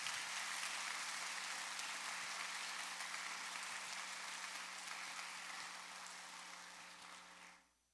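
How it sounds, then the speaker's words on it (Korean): Audience applause at the 46th anniversary ceremony of the Buma Democratic Protests, a steady, dense wash of clapping that holds for several seconds and then fades out toward the end. "여러분 큰 박수 보내주시면 감사하겠습니다."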